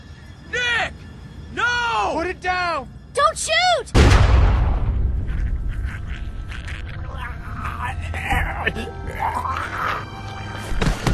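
A single gunshot from The Walking Dead game as Walter shoots Nick cracks out loud and close after tense shouting, then rings off in a long reverberant tail while voices continue over it.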